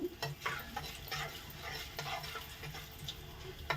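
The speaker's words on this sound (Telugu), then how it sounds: "ఇవైతే బాగా వేగిపోయి ఎండుమిరపకాయ కరివేపాకు" Dried red chilies and curry leaves fry in hot oil, a soft continuous sizzle with stirring scrapes and occasional crackles, fairly close and moderately quiet.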